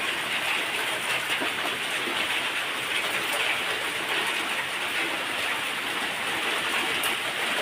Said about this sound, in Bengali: দেখেন গাইস, বাইরে কিরকম বৃষ্টি হচ্ছে, প্রচুর বৃষ্টি হচ্ছে।